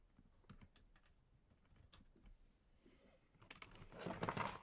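A computer keyboard clatters with irregular keystrokes, quiet at first and then louder. The clicking ends in a dense burst of rapid typing over faint room noise.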